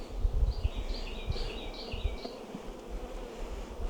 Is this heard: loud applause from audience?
no